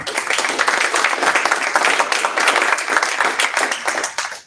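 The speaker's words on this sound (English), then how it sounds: "Another round of applause for them." An audience at a town hall meeting gives a volunteer search team a round of applause, a dense, steady wash of many hands clapping at once that holds throughout and then tapers at the end.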